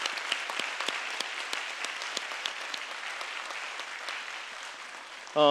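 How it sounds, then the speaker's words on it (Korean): Steady applause from a crowd, dense clapping with a few louder claps standing out, continuing throughout before a voice cuts in at the very end. "우리 감사와 우리 영광의 박수 올려드리고 합니다"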